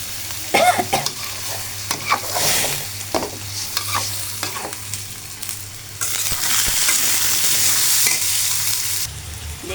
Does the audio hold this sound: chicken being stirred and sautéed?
yes